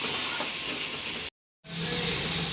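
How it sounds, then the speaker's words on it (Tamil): Onions sautéing in a pan with masala, a steady bright sizzle and hiss that cuts out abruptly for a moment, then returns as the frying continues. "இப்போ பாருங்கள், வெங்காயம் நல்லாவே வதங்கிடுச்சு."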